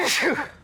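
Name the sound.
sneeze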